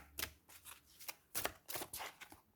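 Oracle cards are handled for a one-card draw, with soft papery riffling and flicking in several quick bursts, close and quiet, with no talking.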